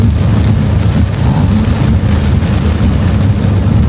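Heavy rain drums steadily on a car at night as it drives over the Bến Rừng bridge linking Quảng Ninh and Hải Phòng, a dense, loud roar with deep road rumble underneath and no voices.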